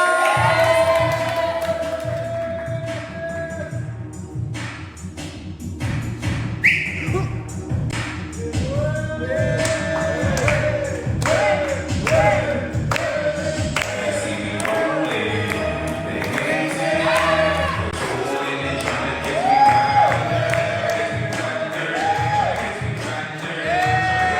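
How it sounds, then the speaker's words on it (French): A lively audience at a drag-style gala show applauds and cheers for a performer, with whoops and shouts over sustained clapping and music, loud and continuous. "Merci d'applaudir Anna"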